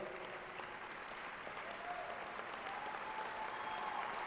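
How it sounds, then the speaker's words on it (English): A university commencement audience gives summa cum laude graduates another round of applause, a continuous, fairly distant clapping that fills a large hall at a soft level. "Those that are summa cum laude, yeah, give them another round of applause."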